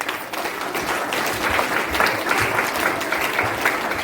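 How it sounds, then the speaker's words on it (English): Audience applause at a Teachers Day gathering, continuous close clapping from a sizable crowd with faint voices underneath. "So I congratulate them and ask all of you to give a big applause."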